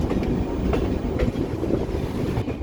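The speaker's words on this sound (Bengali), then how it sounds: "ট্রেন এখন এনজিপি ঢুকছে।" Train rolling into New Jalpaiguri station, with a steady low rumble and a faint rhythmic clickety-clack of wagon wheels on rails, heard close and continuous.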